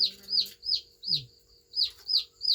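Chickens cluck in a series of short, bright calls repeating in uneven bursts, close and fairly loud, with a low grunting note partway through and no talking.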